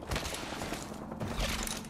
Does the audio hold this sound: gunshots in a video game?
yes